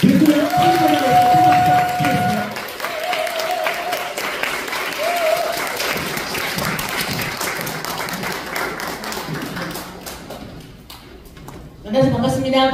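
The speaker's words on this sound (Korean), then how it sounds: "뜨거운 박수, 아낌없는 박수 부탁드리겠습니다" An audience at a Seoul seminar applauds to welcome a speaker, dense clapping under a voice and a musical tone at first, then sustained applause that fades before a voice returns at the close.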